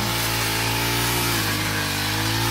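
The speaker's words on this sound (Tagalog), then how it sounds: "Dali ra kaayo, gamit jud kaayo ni grass cutter." Grass cutter clearing grass in a yard, its motor whining loudly and continuously at close range with a steady buzzing drone and no break, and no voices.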